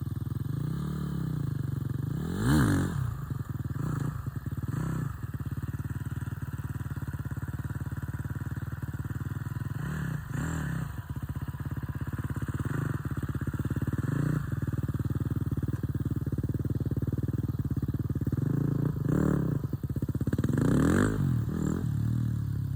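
A 250 dirt bike engine running steadily through pivot or circle wheelies, held revs with periodic surges and dips as the throttle is worked, close and continuous with no talk.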